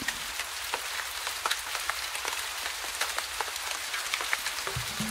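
Rain falling on a rainy night in a town, a steady soft hiss of drops with scattered crisp taps, moderately quiet and continuous with no voices.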